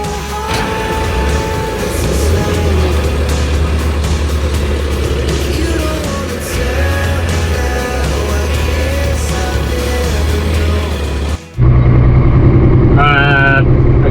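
A heavy haulage truck turns around, its deep diesel engine rumbling steadily up close for several seconds, then dropping off sharply before a louder, rougher engine note takes over with a higher whine rising at the end.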